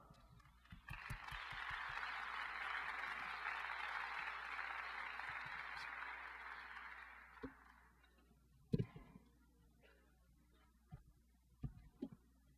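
An audience at a mission conference lecture gives applause to welcome a speaker, a dense burst of clapping swelling for several seconds, then fading out to a few scattered thumps and knocks.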